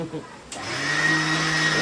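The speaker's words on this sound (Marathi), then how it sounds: "इकडे मिक्सर वाजतोय" Mixer grinder whirring in a farmhouse kitchen, starting abruptly and settling into a steady loud motor whine with a high tone.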